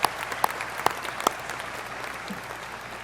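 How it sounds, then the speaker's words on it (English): An audience at a Fitchburg State University graduate commencement applauds for the graduates' families: dense, steady clapping, fairly close, with a few sharper individual claps standing out. "give them a well-deserved round of applause"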